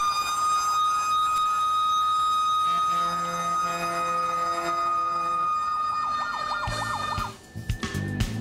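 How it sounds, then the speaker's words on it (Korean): A fire truck siren wails steadily as the engine pulls out of the fire station, loud and close, with a rising-falling tone near the end over rumbling vehicle noise. "웅장한 사이렌 소리와 함께 현장으로 나서는데요."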